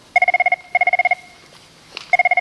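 During a school board budget hearing, a desk telephone rings nearby in three loud bursts of rapid electronic trills, separated by short pauses.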